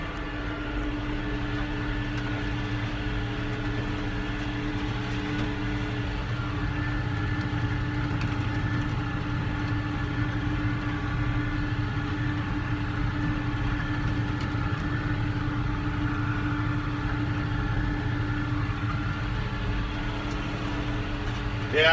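A farm vehicle's engine drones steadily at 1800 RPM while spreading manure, a low continuous hum heard fairly faintly throughout with no talking.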